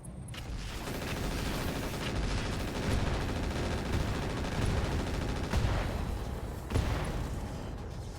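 Mortar fire and explosions in the RogueTech mech video game, a dense, continuous barrage of booming impacts and rattling blasts, with a couple of sharper bangs standing out near the end.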